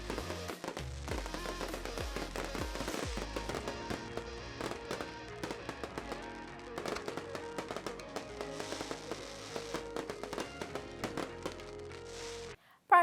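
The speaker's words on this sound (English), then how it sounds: "witness the magnificent fireworks display" Continuous fireworks crackle and pop for several seconds, a dense barrage of bangs and bursts with a few deeper thumps.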